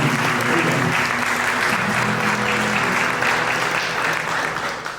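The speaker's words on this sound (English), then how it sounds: "Clap in hands for our beautiful bride." Wedding guests applaud the bride in a steady, dense wave of clapping that holds loud and even for the whole stretch, easing slightly at the very end, with faint voices mixed underneath.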